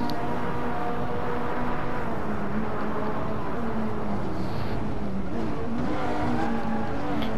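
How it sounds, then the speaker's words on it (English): A Ferrari race car roars loudly and steadily, its engine note shifting in pitch as it passes close by, with no voices over it. "Here comes the horsepower of the Ferrari."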